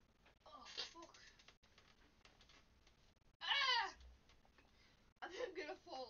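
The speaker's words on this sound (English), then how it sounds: "Oh, Millwall, you're gonna be the luckiest cat alive" A cat meows a few times from close by. The cries are short and rising, with one louder call in the middle, set against scuffling, thumps and some voice-like noise.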